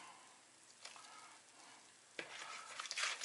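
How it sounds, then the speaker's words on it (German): A spoon stirs grated potato pancake batter with milk and flour in a bowl, making soft wet scraping and sloshing sounds with a few sharper clinks, close and fairly quiet, with no talking. "Und immer umrühren"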